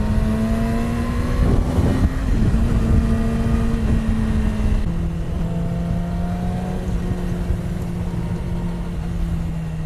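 A 2018 Yamaha R6 sport motorcycle engine running while being ridden, a loud, steady high-pitched whine that rises slightly, dips at a shift, then settles into a constant drone.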